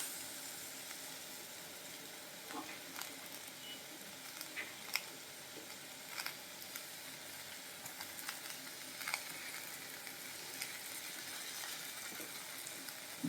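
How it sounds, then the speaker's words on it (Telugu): Ridge gourd pieces and peel fry in a pan for chutney, giving a faint, steady sizzle with occasional soft pops and stirring clicks. "ఇప్పుడు ఈ బీరకాయ ముక్కల్ని కూడా యాడ్ చేస్తున్నాను"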